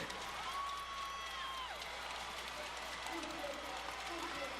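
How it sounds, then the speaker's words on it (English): A stadium crowd at an athletics meeting cheers and claps steadily for a runner, a continuous distant roar with a commentator talking over it. "I'll just listen to the crowd cheer him on now."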